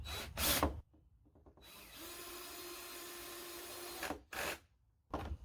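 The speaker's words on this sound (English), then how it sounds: "Now we're finishing those screws all the way in." A power drill drives screws into a wooden bench seat with a steady whine lasting about two seconds, close by. Short bursts of handling or scraping noise come just before and after it.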